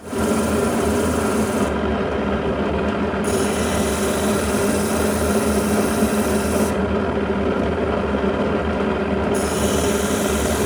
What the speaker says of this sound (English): Each crescent is cleaned up on the lap wheel by grinding the edges smooth.